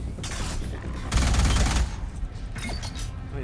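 Rapid automatic gunfire from a weapon in the sci-fi shooter Alien Rage, with scattered bursts and one dense, louder volley in the middle, close and up front with no talk.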